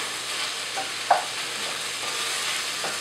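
Red onion and the bulb parts of bulb onions sautéing in a pan, a steady soft sizzle throughout with a few brief stirring scrapes and clicks near and close.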